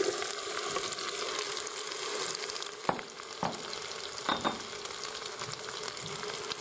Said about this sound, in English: So our butternut squash has been sauteing away for the last few minutes